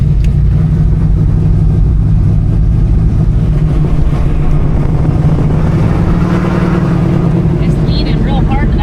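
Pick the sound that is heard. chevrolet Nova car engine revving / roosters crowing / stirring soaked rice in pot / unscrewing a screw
chevrolet Nova car engine revving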